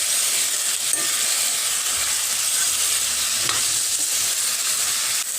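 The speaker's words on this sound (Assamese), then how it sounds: "এইখিনি মই এতিয়া ভালকৈ মিক্স কৰি দিম" Turmeric, salt, ginger-garlic paste, tomato and onion cooking in a hot pan, a loud, constant hissing sizzle with only faint stirring scrapes beneath it and no voices.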